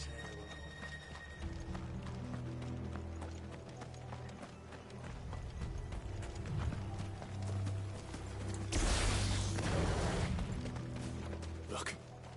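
Horse hooves clip-clop in steady rhythm in the Final Fantasy XVI video game, mixed with game sound effects and a louder burst partway through, while voices speak intermittently.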